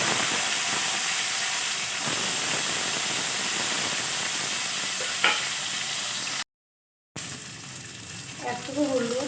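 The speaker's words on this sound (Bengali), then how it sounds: "আমি ঢ্যাঁড়সগুলোকে ভেজে নিচ্ছি।" Okra frying in hot oil for a small-fish mustard curry, a steady broadband sizzle and hiss running continuously at close range, with a short gap and some faint stirring near the end.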